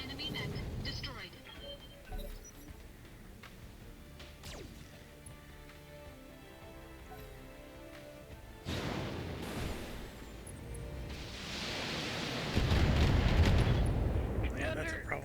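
In the BattleTech video game, an enemy mech is destroyed with deep booming explosions and crashing blasts, loud and rumbling, with radio-style voices talking over the battle.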